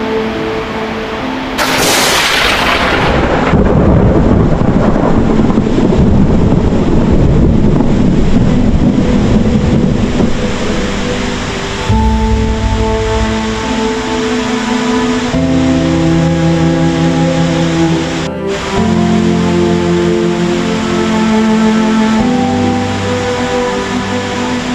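Steady, dense roar of heavy rain pouring down, loud and continuous throughout, with a brief burst of harsher noise near the start.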